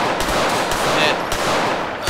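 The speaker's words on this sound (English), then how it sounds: "Shots fired. Booth Tunnel." Gunfire erupts during a police ambush in Booth Tunnel in a roleplay video game, a dense rapid burst of shots filling the whole moment, loud and close, echoing in the enclosed space.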